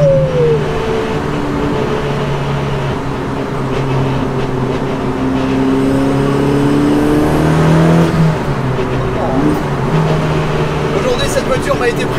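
Dallara Stradale sports car driven on the road, its engine droning and revving steadily with rising and falling pitch throughout, heard from inside the car alongside someone speaking.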